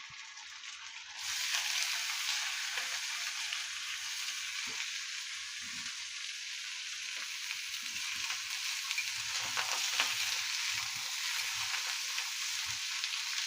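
Curry leaves, green chili and pumpkin sizzle in hot oil in a pan, starting with a sudden burst and continuing as a steady, close frying hiss with faint crackles and occasional stirring taps.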